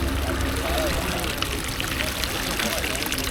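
Continuous rushing, splashing hot spring water pours steadily close by at a hot spring pool in Selayang, Kuala Lumpur, with a voice talking over it.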